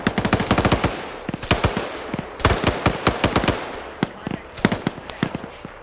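M2 heavy machine gun firing in a military video game, loud rapid bursts of sharp cracking shots, a long stream followed by shorter staccato bursts, close and dominant with no talk.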